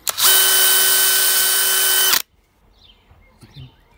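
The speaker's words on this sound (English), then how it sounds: "I can definitely feel a difference with drilling and things" A cordless brushless power drill whirs at a steady high pitch for about two seconds, then stops abruptly, leaving faint handling noises.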